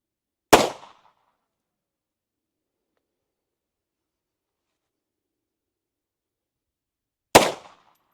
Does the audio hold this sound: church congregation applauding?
no